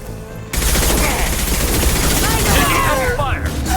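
Sustained heavy gunfire in the video game Mass Effect 2, a loud continuous automatic barrage that starts abruptly and runs to the end, with a voice shouting over it.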